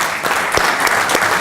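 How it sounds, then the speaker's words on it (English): Audience at an evening education event honoring the California State Lottery applauds steadily, dense clapping filling the short stretch at a loud, even level. "If we could just give them a quick round of applause."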